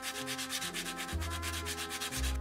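Fine, soft-grit sandpaper rubbed over acrylic putty on a 1/32 scale model F-104 aircraft, quick rhythmic back-and-forth strokes at a steady pace, close and clear with no voices.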